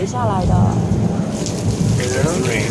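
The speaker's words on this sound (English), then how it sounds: "Our rain is created by a sprinkler system that we have up above the view of the camera." Artificial rain pours from an overhead sprinkler system on a film studio set, a dense steady hiss of falling water with a low rumble beneath and faint voices mixed in.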